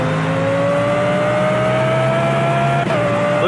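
A race car in Project CARS brakes hard and slides, its loud engine dropping in pitch under a steady drone of tire and road noise. Near the end there is a brief bump, and no one speaks.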